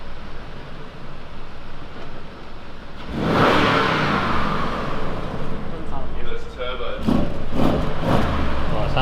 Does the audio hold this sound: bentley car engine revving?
yes